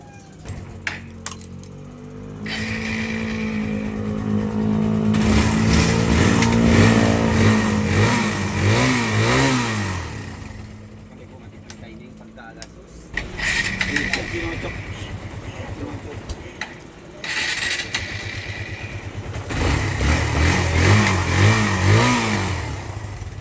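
A cold Kawasaki Barako 175 motorcycle engine revs up and settles in several bursts, rising and falling loudly up close, with someone talking over parts of it.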